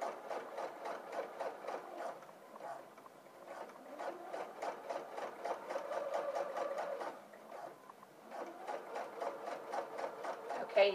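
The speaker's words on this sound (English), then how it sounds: "Put your foot down, and then you start stitching." A sewing machine stitches a centered zipper with a steady, rapid mechanical rhythm, briefly slowing and pausing a couple of times before resuming, fairly quiet and close.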